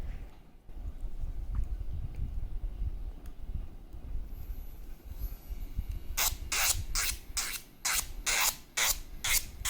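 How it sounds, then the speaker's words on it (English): Cordless electric nail drill buffing the shiny surface off nail polish, a low steady motor whir with a rhythmic series of sharp, bright sanding strokes in the second half, close and fairly loud. "So this is how you sand it. It will remove the shiny surface from the polish"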